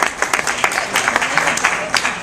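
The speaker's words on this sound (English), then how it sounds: "you can applaud it if you like" A short burst of audience clapping at a real-estate talk, sharp, irregular hand claps close by and fairly loud, with no voices over it.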